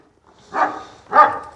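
A dog gives two loud, close barks about half a second apart, with near silence before and between them.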